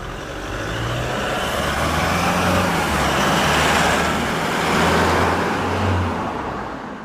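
Stock exhaust of a Toyota Hilux GUN125 pickup at low engine speed, a steady deep rumble with a low pulsing drone that swells and eases slightly across the stretch, with no voices.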